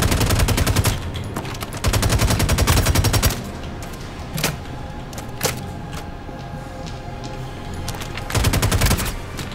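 Rapid automatic gunfire in Star Citizen as a guard is shot, loud rattling bursts at the start and end with scattered single shots and mechanical clanks between.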